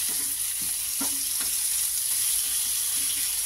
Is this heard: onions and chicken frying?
yes